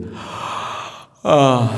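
A man imitates a loud, drawn-out yawn, a long breathy inhale that cuts off briefly, then breaks into an open, voiced exhale.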